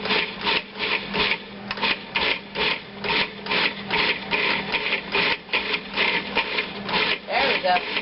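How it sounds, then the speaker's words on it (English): A Cuisinart food processor pulses raw salsa ingredients in rapid, evenly spaced bursts, near and fairly loud, with a voice faintly under the chopping. "Put the lid on the Cuisinart, and we're gonna pulse it because we need to get that all those things chopped finely."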